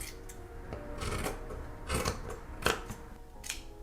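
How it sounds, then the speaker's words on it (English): Scissors snip through a strip of fabric being cut to reinforce the bottom of a Renaissance-fair bag, with a series of close, crisp cutting strokes spaced irregularly across the few seconds. "actually cut a strip to reinforce the bottom, just so that it doesn't stretch out too much"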